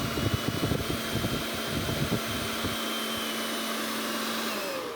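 A fan blowing air through the nozzle of a homemade smoke machine gives a steady, loud broadband whoosh with a constant hum, while a rattling motor-like buzz underneath fades out partway through.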